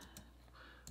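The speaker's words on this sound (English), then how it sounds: "I'm gonna type in schools out," Computer keyboard keys tapped a few times during text entry, sparse faint clicks over a quiet room hum, with no voices.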